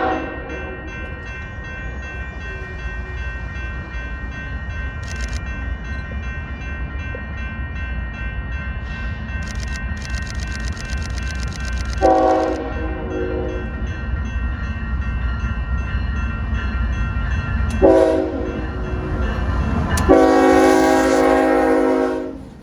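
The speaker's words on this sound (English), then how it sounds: "this train is pulling into the Southern Pacific Sacramento Valley Station" A Union Pacific train pulling into the Southern Pacific Sacramento Valley Station in California, its horn blowing several times over a steady rolling rumble of rail cars, fairly loud and close with no talking.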